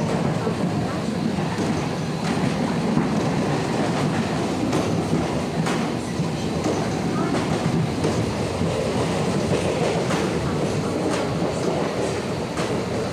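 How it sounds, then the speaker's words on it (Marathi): A local train out of Airoli rumbles along steadily, with wheels clattering over rail joints and carriage noise filling the space for the whole stretch, loud and continuous, with faint voices mixed in. "ट्रेनमध्ये आहे आम्ही, ऐरोलीवरून ट्रेन पकडली आहे"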